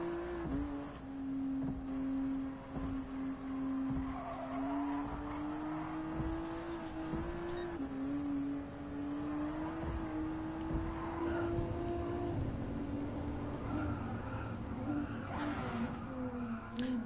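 A Lamborghini Veneno races in Gran Turismo Sport, its engine droning steadily with shifting pitch and drawn-out tire squeal through a corner.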